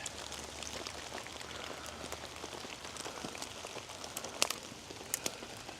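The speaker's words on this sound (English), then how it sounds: "it's like really coming down now out here. And some big raindrops." Heavy rain pours down outdoors in Minnesota, a dense steady hiss of drops striking surfaces with a few louder, sharper splats from big raindrops near the end.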